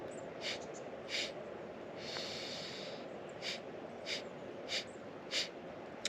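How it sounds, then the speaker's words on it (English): Segmented sniffing breaths from a Kundalini breathing exercise: a steady run of short, sharp nasal sniffs, close and alone, with one longer breath in the middle. "we're going to be inhaling through the nose and then exhaling in a segmented breath. So we're going to sniff 4 sniffs out."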